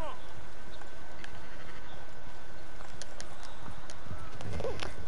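Horse hooves clop steadily beneath a rider in the open-world western video game Red Dead Redemption 2, the rhythmic footfalls mixed with faint game ambience and someone talking over them.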